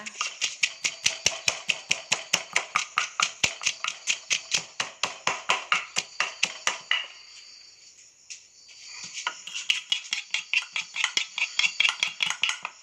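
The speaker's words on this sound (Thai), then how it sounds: "แล้วมาโขกเครื่อง เครื่องแกงเลยนะคะ" Thai curry paste being pounded in a mortar for a snakehead fish and winter melon curry: steady, evenly spaced sharp thuds, close and crisp, running in a fast rhythm, pausing briefly midway, then resuming.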